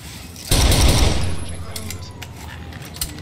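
Gunfire in Rainbow Six Vegas 2 erupts as a loud, sustained automatic burst that tails off into scattered shots, with a voice talking over it.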